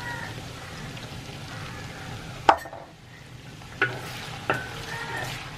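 About 250 g of halved shallots sizzle steadily in hot oil for a homemade chicken fry, with three brief clattering stirs of a spoon against the pan.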